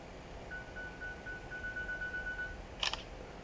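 A phone camera fires a single crisp shutter click near the end, preceded by a faint steady electronic tone over quiet room hiss.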